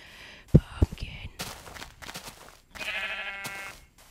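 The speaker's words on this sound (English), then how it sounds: "And some sheep." Sheep in the Minecraft video game bleat in short, nearby game sound effects, mixed with clicks and soft breathy voice sounds from a player.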